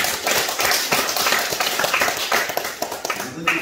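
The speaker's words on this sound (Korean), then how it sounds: "우리 박가병 권사님, 우리 한번 박수로 한번 격려해 드렸으면 좋겠습니다." A church congregation claps together to encourage a member during a Sunday service, a dense, steady round of applause that fills the room.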